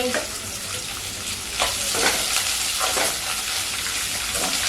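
Chopped onions and green chillies hit hot oil with curry leaves for poori potato masala, giving a loud, continuous sizzle broken by several sharp scrapes and clatters of stirring.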